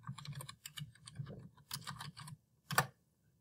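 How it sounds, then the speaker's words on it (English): Quick bursts of keystrokes come from a computer keyboard as a word is typed into a search box. The clicks are crisp and close, with short pauses between groups and one firmer final tap. "typing electricity into the search box"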